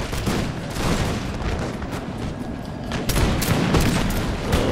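Musket volleys crackle and boom nearly nonstop in Empire: Total War with the Darthmod mod, dense overlapping gunfire with a heavier burst near the end, loud and sustained with no voices.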